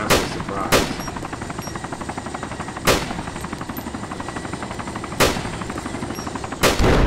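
Gunfire exchange in the DayZ mod Overpoch: repeated loud sharp shots ring out at irregular intervals over a steady rattling, crackling background, with several distinct reports spaced a couple of seconds apart.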